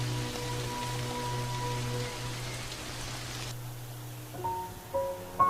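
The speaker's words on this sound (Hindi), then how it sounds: "ये बेमौसमी बारिश बंद होने का नाम ही नहीं ले रही" Unseasonal rain falls in a soft, steady hiss that carries on evenly under sustained background music tones. It sounds moderate in level and fairly distant, with no speech.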